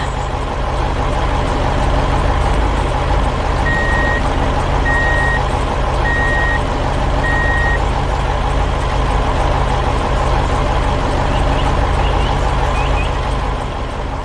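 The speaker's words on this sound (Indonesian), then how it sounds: "Truk itu melaju dengan mantap, membawa beban berat kembali ke arah jalan tadi." A heavy animated toy truck pulls away loaded, its engine rumbling steadily and loud throughout, with a short run of four evenly spaced reversing-style beeps early on.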